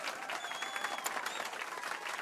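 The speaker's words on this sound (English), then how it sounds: "let's give our pianist a warm round of applause" Applause from a concert audience for a pianist in the Final Fantasy 7 Rebirth video game, a faint, steady patter of many hands clapping with a brief chime-like tone over it.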